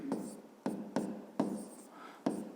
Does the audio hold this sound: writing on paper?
yes